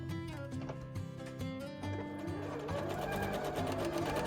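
A sewing machine runs a wide zigzag stitch around fabric edges of puffy pumpkin shorts, a close, steady mechanical whirr with a quick rhythmic needle beat.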